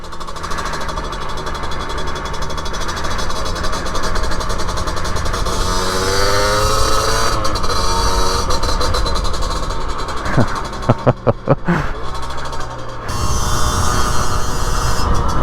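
A 2023 Rieju Trophy MRT50 two-stroke motorcycle engine, still restricted, runs close by with a buzzing, rattly tone, rising in pitch midway, then a few sharp blips before settling back to a steady drone.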